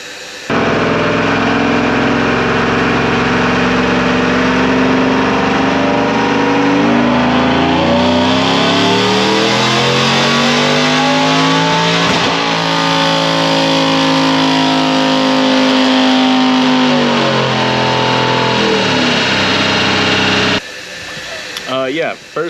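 A 2020 RST truck's engine revs on a dyno to 6,800 RPM. The loud, sustained pull climbs steadily in pitch for about twenty seconds, then cuts off abruptly.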